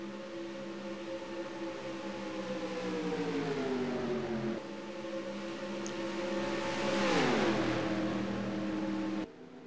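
Race cars roar past in a pack at the Daytona 500, a steady droning engine note that pitches down as they pass, loud and sustained with no voices over it.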